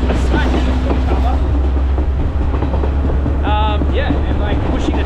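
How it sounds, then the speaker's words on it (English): The Kandy Express in Sri Lanka picks up speed with a loud, continuous rumble and rattle of rolling carriages heard from on board, with a brief squeal of metal and a voice talking over it. "because the train's getting speed up, all the characters are smashing into each other."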